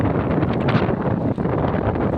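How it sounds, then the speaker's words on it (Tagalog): Strong wind roars steadily and buffets the microphone in a dense, close rumble by the sea, with no voices. "Hindi natin makita sa dagat guys kasi sobrang lakas ng hangin"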